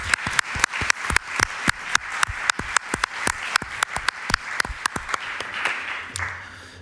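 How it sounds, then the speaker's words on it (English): An audience welcomes a speaker at a talk on Eastern European protests with applause that sounds thin and sparse, a few distinct, regular, close claps repeating for several seconds with no talking. "So please give him a warm hand of applause."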